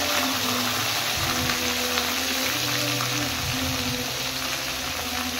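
Sliced onions fry in a pan for a home-style chicken curry, giving a steady, dense sizzle that stays close and even throughout with no pauses.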